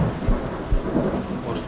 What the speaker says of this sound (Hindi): अचानक जोर से बारिश शुरू हो गई